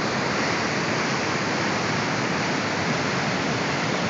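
Floodwater pours over Pathfinder Dam in a steady, thunderous roar, a dense unbroken rush of falling water close by with no voices.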